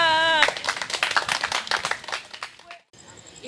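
Audience at an art centre opening night claps in a short burst of applause that fades after a couple of seconds, with voices mixed in.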